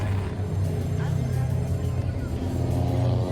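Race cars circling Huntsville Speedway, a steady loud engine roar and drone holding throughout with a low rumble, a voice talking faintly underneath.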